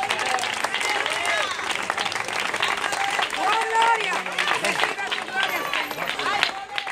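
A church congregation claps and cheers enthusiastically during a service, lively applause mixed with raised voices and crowd chatter, with some people speaking over the noise.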